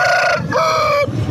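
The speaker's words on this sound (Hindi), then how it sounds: "देखिए मुर्गा" An Aseel rooster crows loudly and close by at a poultry market, one drawn-out call with a rising then held tone that breaks off abruptly.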